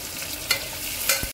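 Onion sautéing in a pan on an induction cooktop, a brief close sizzle with two sharp stirring scrapes before it cuts off abruptly.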